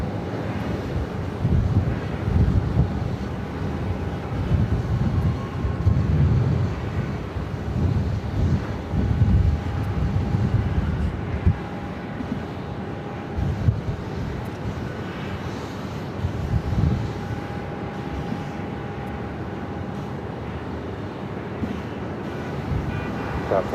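A Delta Airbus A330-300 arriving on runway 7 right at Phoenix airport gives a distant, steady engine rumble, with wind buffeting the microphone and a thin tone running through.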